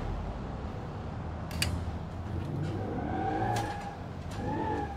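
Lamborghini Countach engine in the BeamNG.Drive video game, a steady low engine drone running throughout with rising whines as it accelerates, alongside faint tire and road noise.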